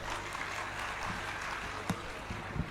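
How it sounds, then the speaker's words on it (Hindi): An audience at a devotional Hindu story-recitation gathering claps together in a soft, steady, fairly distant patter of many hands, lasting a few seconds. "सही में 1 घंटा ज्यादा सुनवे के काजे ताली बजाई कि यूं ही बजा दइए।"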